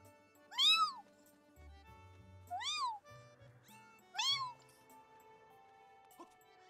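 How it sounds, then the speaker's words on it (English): Three clear rising-falling cat meows from a kitty in Zelda: Skyward Sword, evenly spaced and fairly close, over a quiet game soundtrack with soft low thuds and no talking. "Meow! Kitty, kitty, kitty!"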